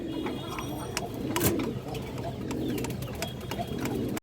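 High-quality pigeons, including Bejino-type birds, coo softly in a loft or market setting, a low murmuring coo under faint background clicks and scattered noises.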